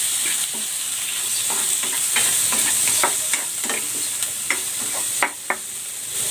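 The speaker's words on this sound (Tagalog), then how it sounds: "Magigisa ako ng konting bawang. I-stir fry ko muna itong hipon." Shrimp and garlic stir-fry in a hot pan with a steady hiss and sizzle, broken by scattered clinks of a utensil stirring and scraping, and no one speaks.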